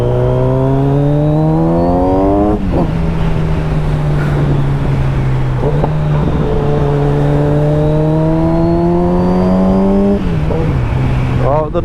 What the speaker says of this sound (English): The noise of this bike will never get boring.